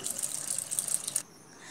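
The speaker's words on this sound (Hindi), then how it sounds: "मैं दाल को अच्छी तरह धो दी हूँ।" Lentils (dal) being washed in water in a kitchen, a brief soft splashing and trickling rinse that stops abruptly, leaving quiet room tone.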